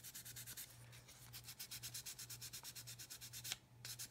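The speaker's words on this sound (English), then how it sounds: "I can get on there and I can sand that away" Steady back-and-forth sanding of a hard plastic scale model part with a sanding stick, a quick rhythmic rasping close by with a brief pause near the end.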